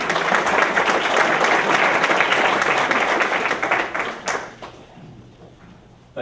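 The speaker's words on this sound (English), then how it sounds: "if you wouldn't mind giving him a round of applause" Loud, dense applause from a business community audience for a football coach, sustained for about four seconds before tapering quickly into near quiet.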